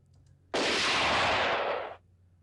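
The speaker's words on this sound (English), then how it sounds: "There's one gunshot here at the end." A single gunshot effect from the multitrack of a song bursts out suddenly, loud and broad, then holds as a wide noisy blast for about a second and a half before cutting off.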